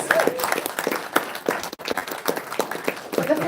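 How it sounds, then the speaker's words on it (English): Dense, steady applause from a comedy club audience at a stand-up show in Hobart, Tasmania: many hands clapping at once in a continuous wash, loud and close, with a brief dip midway. "So give Jokers a round of applause for that and for all our firings."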